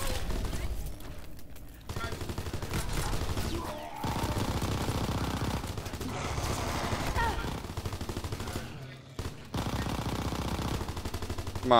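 Rapid, sustained video game gunfire in a zombies mode, dense automatic bursts rattling almost continuously with brief gaps, while players talk over it.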